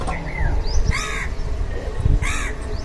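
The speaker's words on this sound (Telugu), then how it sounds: "చూడండి కాకులు పక్షులు ఎంత బాధిస్తున్నాయి" Crows cawing loudly over a rooftop vegetable garden, several harsh calls in a couple of bursts, close by over a steady outdoor background.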